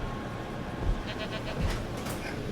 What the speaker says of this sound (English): You can literally hear it. Go for the goat, please.